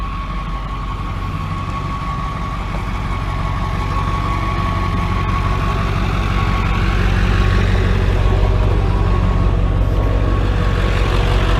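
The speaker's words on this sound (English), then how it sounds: "I'm gonna let Tyler drive it so I can hear what it sounds like." A diesel truck engine runs steadily, a low rumbling drone with a faint whine, slowly growing a little louder over about twelve seconds, heard alone without voices.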